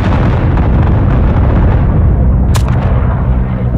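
Dense, loud battlefield gunfire rolls continuously in the Isonzo WWI shooter on the Piave map, with a sharper crack breaking through near the end.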